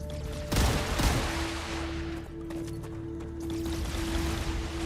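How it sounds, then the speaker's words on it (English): Enemy gunfire in the sci-fi video game StarRupture, a sharp burst of shots near the start followed by scattered distant cracks over a steady background drone and a sustained tone. "They're not terribly accurate, but they are not hesitant about shooting."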